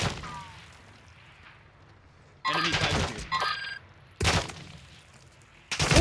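Video game gunfire in DMZ arrives in several loud bursts separated by quieter stretches, the sharp volleys cutting in suddenly amid faint background game sound.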